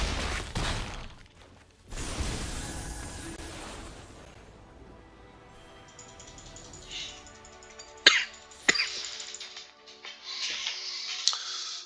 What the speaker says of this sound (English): I keep coughing, one moment.